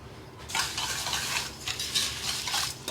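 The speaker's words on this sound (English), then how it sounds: "So my butter is melt. I'm gonna add my sugar straight in." Sugar being stirred into melted butter in a pot for a Jamaican fruit cake, a steady scraping, swishing stir with soft clinks and faint sizzle, close and continuous with no talking.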